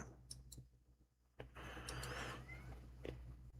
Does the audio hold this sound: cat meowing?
yes